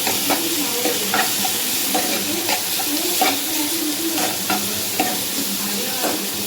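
Cooked urad dal being stirred with garlic and salt in a pan, a continuous sizzle under regular spoon strokes and scrapes that recur every second or so, close and steady.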